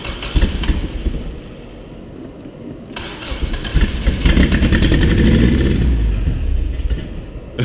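A homemade backyard turbo engine starts and runs nearby, its rough roar swelling and easing as the throttle is worked, loud and with no voices over it.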